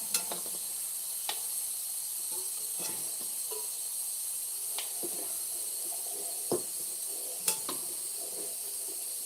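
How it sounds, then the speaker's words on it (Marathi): Food sizzles steadily in a pan during home cooking preparation, a continuous hiss with occasional sharp clinks and scrapes of stirring, close and fairly quiet. "स्वयंपाकाची तयारी चालू आहे"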